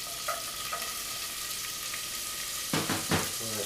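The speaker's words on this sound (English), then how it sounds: "add just a few diced onions into the pan" Diced onions frying in vegetable oil in a pan give off a steady close sizzle, with a few louder stirring scrapes and spatters near the end.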